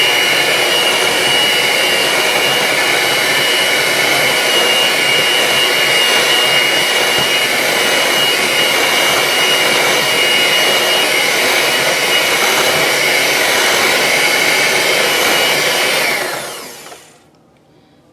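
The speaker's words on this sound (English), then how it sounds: "I don't want to blend it for too much more." Blender whirring through a caramel apple cheesecake filling, a loud steady motor roar held close for about sixteen seconds before winding down to quiet, no talking.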